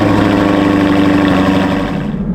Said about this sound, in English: let's just give this thing a cold start and let's get going